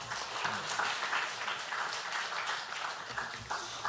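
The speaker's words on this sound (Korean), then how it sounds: "감사와 찬양과 존귀의 영광의 박수 올려드리면서 우리 성교사님 맞이하겠습니다" Congregation at a church revival meeting applauds to welcome a missionary, a dense, steady wash of clapping sustained throughout at moderate level with no talk over it.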